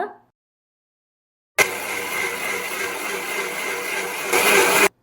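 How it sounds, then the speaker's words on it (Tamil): A mixer grinder grinding soaked millet whirs loudly and steadily for a few seconds after silence, its pitch rising briefly before it cuts off abruptly. "நல்லா ஃபைனாக அரைச்சி எடுத்துக்கோங்க."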